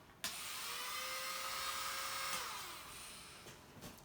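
An electric nail drill driven by a foot pedal at its highest speed gives a loud, steady high-pitched whine. The tone holds for about two seconds, then dips and fades. No one speaks.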